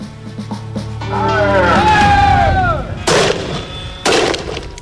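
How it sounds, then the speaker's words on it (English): Stinger rubber-ball grenades, less-than-lethal weapons, explode in loud, sharp blasts, at least two distinct bangs following an earlier rumbling burst and a descending whistle, with no talk. "These are Stinger grenades. When they explode, 24 tiny rubber balls fire out to batter and bruise opponents into submission."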